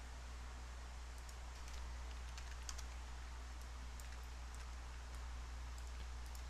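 Quiet, rapid tapping on a computer keyboard while numbers are entered by hand, set against a steady low hum and hiss of background noise.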